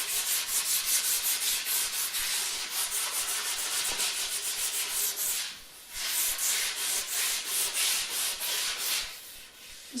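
Sandpaper scrubs back and forth over a rough wooden tool handle in steady, close, rhythmic strokes, with two brief pauses before the rubbing resumes.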